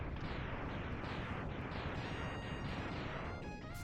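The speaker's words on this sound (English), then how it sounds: "Love how the explosions just like stop some of the sound effects playing." Dense, continuous run of retro video game explosion effects from Mega Man X, loud and overlapping with repeated bursts throughout, a few tonal game sound effects cutting in near the end.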